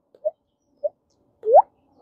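A mouth makes a few short, hollow plopping sounds imitating water droplets, two small drips then a louder rising one, separated by brief silences.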